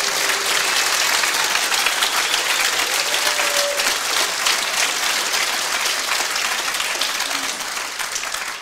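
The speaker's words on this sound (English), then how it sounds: "If you like to give a round of applause to the unnamed people" A conference audience gives a round of applause: dense, sustained clapping from a large crowd, loud and steady before tapering slightly at the end, with no speech over it.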